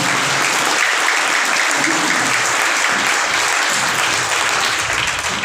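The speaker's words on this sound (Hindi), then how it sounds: "ज़ोरदार तालियों के साथ हम फाती का भी शुक्रिया अदा करते हैं" A church congregation gives loud, sustained applause during a Sunday Mass, dense clapping filling the space evenly from start to finish.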